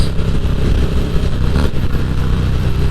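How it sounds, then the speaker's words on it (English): A Harley-Davidson motorcycle exhaust rumbles loud and close with a deep, steady throb, swelling briefly as the engine revs, heard alone. "Trying to mess up my video with your revving, Norm?"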